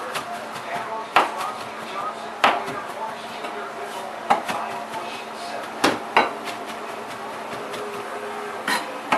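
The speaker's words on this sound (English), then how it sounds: "I got a bunch of parsley here. Now I just got to chop it up." Fresh parsley chopped with a knife on a cutting board: sparse, irregular knock-like thuds, a few sharp and loud, over a quiet background.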